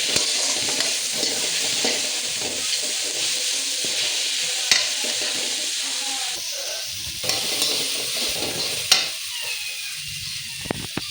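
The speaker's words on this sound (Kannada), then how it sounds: "ಹಸಿ ಸ್ಮೆಲ್ ಹೋಗೋವರೆಗೂ ಚೆನ್ನಾಗಿ ಫ್ರೈ ಮಾಡ್ಕೊಬೇಕು" Masala with coriander and mint leaves fries in a pan with a continuous hissing sizzle, while occasional sharp knocks and scrapes of stirring sound close by.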